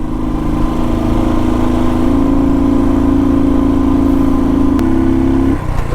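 A vehicle engine labours up the steep Jalori Pass mountain road in first or second gear, a loud, steady drone that rises slightly before easing off near the end, close and alone.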